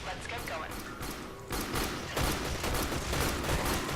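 Rapid gunfire bursts from the Warframe video game, loud and dense, building into a sustained fusillade with thuds in the second half, while voices talk over the action.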